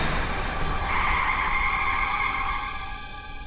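A car skids to a stop with a loud, sustained tyre screech over road noise that holds for a few seconds, then fades away.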